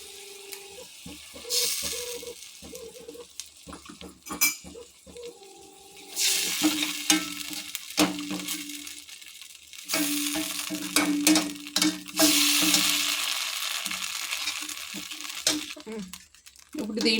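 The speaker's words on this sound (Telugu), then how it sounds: "అలాగే దీంట్లో కొంచెం కార్న్ ఫ్లోర్ వాటర్లో కలుపుకొని, ఉండలు లేకుండా కలుపుకొని దీంట్లో వేసుకుందాం." Gobi manchurian sauce is stirred in a pan as cornflour water is mixed in, with bursts of sizzling and scraping broken by quiet gaps while a person talks over it.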